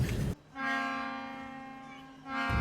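A single long bus horn blast in Indonesia, steady and loud, holds for about two seconds with nothing else around it.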